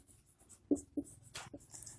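Marker or chalk strokes on a classroom board during a chemistry lesson, a few short scratchy bursts with quiet gaps between them, close and fairly faint, with no speech over them.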